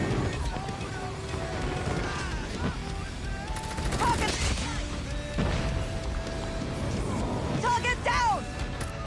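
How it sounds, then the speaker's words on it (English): Heavy battlefield din from an airstrike in a first-person shooter game: rapid gunfire bursts and dull blasts layered together through a dense, steady roar, with voices talking over the combat. "Friendly airstrike incoming"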